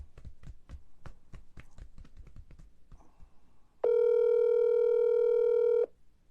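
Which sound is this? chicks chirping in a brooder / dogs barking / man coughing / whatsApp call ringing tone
whatsApp call ringing tone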